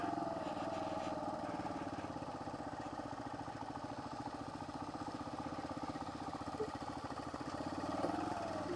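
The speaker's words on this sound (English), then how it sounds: "I just keep it in second gear and let the bike do its job" A motorcycle engine hums steadily in second gear on winding backroads near Baños, Ecuador, a continuous mid-pitched drone with wind rush and no voices.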